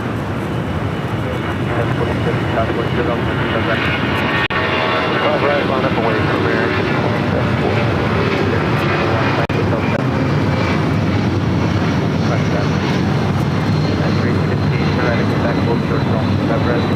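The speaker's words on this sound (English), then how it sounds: "The 777 freighter" Boeing 777 freighter at LAX, its loud, steady jet roar filling the whole stretch with a broad rumble and no break, amid airport ground noise.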